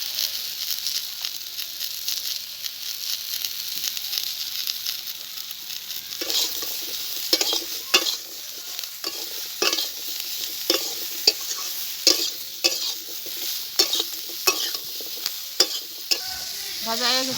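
Sliced eggplant and radish, seasoned with salt and turmeric, sizzle steadily in a frying pan, with soft scraping and clicking from stirring that grows busier partway through.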